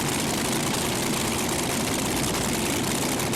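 A pulling tractor with an Oldsmobile engine roars at a seven-tractor pull-off at a 1999 tractor-pulling competition, a loud, dense, unbroken engine drone with no voices.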